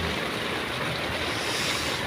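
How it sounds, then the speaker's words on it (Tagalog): Dense, constant roar of heavy rain drumming on a tarp overhead, a steady wash of noise with no pauses. "Nakatrapal kami dahil ang ulan ay malakas."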